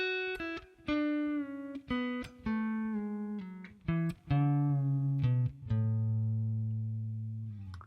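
Guitar scale exercise played as a descending run, each note bent up a half step from below, about a dozen sustained plucked notes stepping lower, clear and close with no talking.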